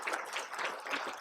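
An audience at a university event about a new medical school claps, a brief steady wash of many hands at moderate distance, fairly soft and even throughout.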